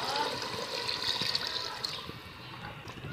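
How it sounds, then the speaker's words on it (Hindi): Three glasses of water are poured into a pot of beef Sindhi biryani, a close splashing gush that tapers into a trickle and fades out, with no talk. "हम इसके अंदर ऐड करेंगे 3 glass पानी।"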